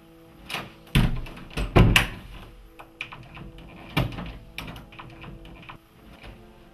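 An indoor door is shut in a period drama scene, with a series of close wooden knocks and thuds, two sharp loud impacts early on and softer handling clatter after.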